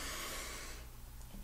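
One slow, deep breath drawn in through the nose, close and soft, a breathy rush that fades after a second in a quiet room with no talking.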